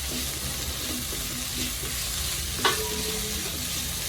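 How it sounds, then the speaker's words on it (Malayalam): Vegetable filling for samosas, seasoned with cumin powder, is sautéed and stirred in a pan: a steady sizzle with rhythmic scraping strokes and one sharper clatter, close up and without speech. "ഒരു കാൽ സ്പൂൺ ജീരകത്തിന്റെ പൊടി ചേർക്കാം നന്നായിട്ട് വഴറ്റി യോജിപ്പിക്കാം"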